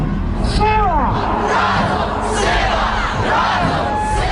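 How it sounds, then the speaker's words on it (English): Crowd chanting and shouting in unison at a protest, loud and continuous with overlapping voices and rising calls throughout. "simple but effective tools like catchy sing-alongs and chanting are employed"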